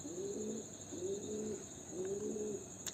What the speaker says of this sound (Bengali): আজ আপনাদের দুটো পায়রা দেখাবো